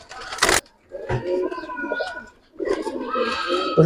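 Giribaz pigeons coo in low, rolling bursts at close range, with a few sharper calls and wingy flutters between them, while someone talks over parts of the sound.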